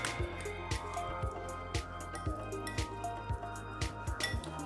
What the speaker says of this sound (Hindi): पानी ना ठंडा ना गर्म, रूम टेम्परेचर का पानी डालेंगे और इसको अच्छे से पहले मिक्स कर लेंगे